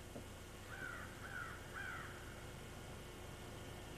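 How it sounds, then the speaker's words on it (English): Three drawn-out, downslurred bird calls from a hawk ring out at the end of a ridge road in the Red River Gorge of eastern Kentucky, each fairly faint and distant over a steady outdoor hiss. "Did you hear that bird? That's a hawk."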